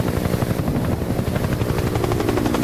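A helicopter in the VR video game Don't Die flies close by, its rotor making a loud, steady, churning drone with a fast beating pulse that holds throughout, with no talking.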